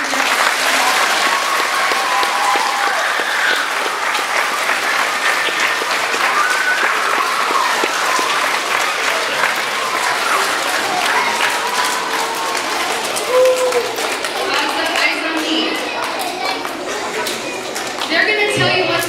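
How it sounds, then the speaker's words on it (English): An audience at a school assembly applauds a row of children, dense sustained clapping filling the room from start to finish, with voices mixed in beneath it. "Can you guys clap for them?"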